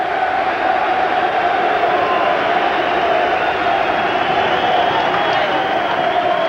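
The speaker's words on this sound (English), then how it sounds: "Celtic fans cheering Blinker once again" Celtic football fans at a stadium match against Hearts, a steady far-off crowd roar that holds at an even level for the whole stretch, with no clear peaks of cheering.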